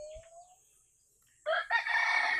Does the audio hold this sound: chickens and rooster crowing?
yes